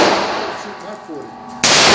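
A Glock .40 pistol at an indoor or outdoor gun range fires one loud, close, sharp shot near the end, after a stretch of quieter room noise.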